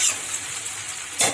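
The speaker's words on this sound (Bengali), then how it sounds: "এবারে দিয়ে দেবো, ভালো করে নাড়াচাড়া করে নেবো আমি।" Potato and mango are stirred in a frying pan with a soft steady sizzle and a few scraping strokes, one louder scrape near the end, close up with no voices.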